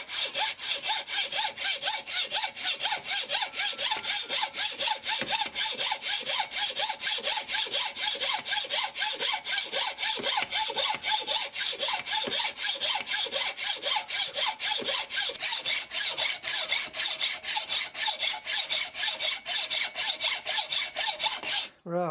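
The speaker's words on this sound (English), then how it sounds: "I'm just going to saw this down here now." A hand saw rasps steadily through metal, fast even back-and-forth strokes continuing for a long stretch, then stopping abruptly at the end.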